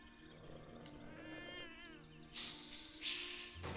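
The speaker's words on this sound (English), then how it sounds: "I think there might be cats over there. Large cats." Cats in the video game Jenny LeClue give a drawn-out wavering meow, then loud, harsh hisses burst in close by, with a steady low game ambience underneath.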